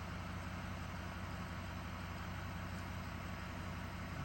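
2006 Ford 6.0 Powerstroke diesel, stock exhaust with catalytic converter and muffler removed, idling rough with a steady low heavy rumble, faint and continuous, no voices.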